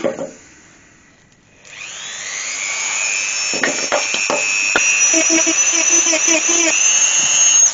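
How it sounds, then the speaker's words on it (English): A rotary texturing tool dimples the sides and top of a turned ash wood jewelry box, making a steady high-pitched whine with bursts of tapping chatter that continues to the end. "all that's left for me to do is dimple around the side of there and dimple the whole of that top"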